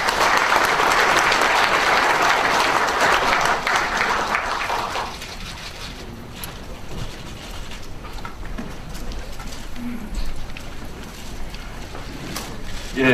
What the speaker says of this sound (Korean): 여러분 뜨거운 박수로 청해 주시죠